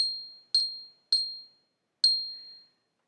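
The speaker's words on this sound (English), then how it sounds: "this is a little place that we put the gong on" A small gong struck with a mallet rings four times, each a bright clear strike with a ringing decay, close and alone with no talking.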